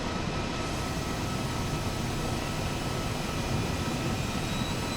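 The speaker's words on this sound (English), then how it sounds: "I'm going to set engine 2 to start." Turbine of engine 2 on an H135 helicopter starting up in Microsoft Flight Simulator 2020, a steady broadband whine and rush that holds at an even level throughout.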